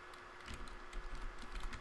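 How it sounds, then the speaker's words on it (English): Quick, light keystrokes patter steadily on a computer keyboard, close and soft, a continuous run of clicks with no talking. "Really losing the power of typing."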